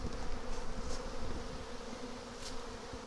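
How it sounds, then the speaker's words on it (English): A swarm of bees gathered up in a tree drones in a continuous, even buzz, close and steady throughout, with no talking. "So, a lot of bees up on the tree."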